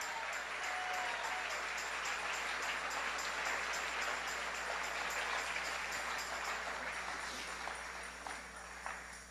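A church congregation claps during a morning service, a dense, even wash of applause that holds steady throughout and fades slightly near the end.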